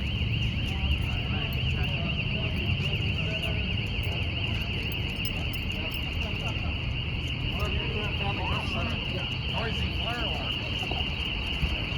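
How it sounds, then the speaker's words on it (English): A courthouse fire alarm sounds outdoors as a steady, continuous electronic tone that holds through the whole stretch, with outdoor noise and some voices beneath it. "the fire alarm was pulled while I was outside"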